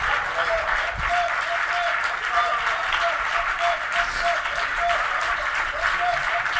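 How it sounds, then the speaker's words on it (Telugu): A church congregation claps loudly and continuously, a full, steady roar of hands. A preacher's voice carries over the clapping the whole time. "గట్టిగా చప్పట్లు కూడా దేవుని కనపరచండి"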